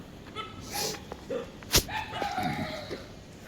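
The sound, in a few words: dogs barking at night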